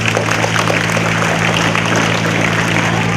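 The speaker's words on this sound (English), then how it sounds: "let us give a round of applause to Our Lady of Fatima," Audience applause at a Flores de Mayo gathering honouring Our Lady of Fatima, sustained loud clapping from many people with a steady low hum underneath, no speech.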